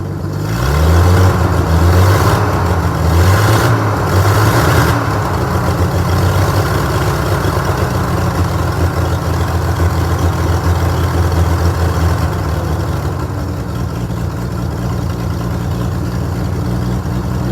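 A WW2-era Clarktor tractor engine runs loud and close, rumbling with a few rough surges early on before settling into a steady low idle.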